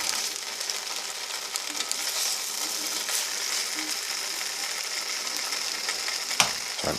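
Thin slices of bologna fry in a dry pan for a sandwich, giving a steady, fairly quiet crackling sizzle throughout with a small clink near the end.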